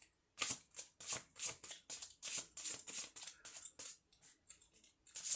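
Oracle cards are shuffled close up in a quick series of crisp, papery slaps and riffles, about a dozen short bursts in an uneven rhythm with brief gaps between them.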